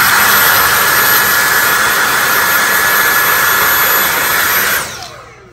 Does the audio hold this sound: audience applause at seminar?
no